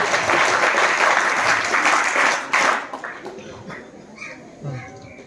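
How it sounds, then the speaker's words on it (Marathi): An audience at a school honours ceremony claps loudly and steadily for a few seconds, then the applause thins out and fades into scattered claps and background murmurs. "सर्वांनी जोरात अशा टाळ्या वाजवायचे"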